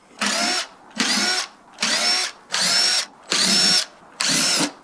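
A power drill whirs in six even bursts of about half a second each, separated by short pauses, its pitch shifting slightly within each burst; close and loud, no voices.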